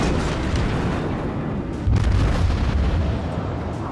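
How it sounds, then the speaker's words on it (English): Naval gun salvo fired from a Phoenix cruiser in a warship video game, a continuous roaring boom with a louder low rumbling burst midway, heavy and near. "Another good salvo goes in."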